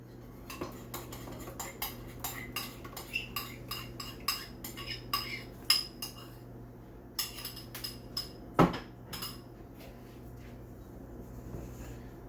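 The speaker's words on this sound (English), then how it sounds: "I'm going to stir that in" Turkey gravy being stirred into the main dish with a metal utensil, a quiet run of irregular clinks and scrapes against the pot, sparse taps spread out with short gaps and one sharper knock near the end.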